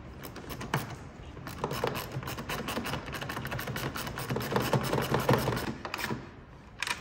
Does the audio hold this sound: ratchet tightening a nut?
yes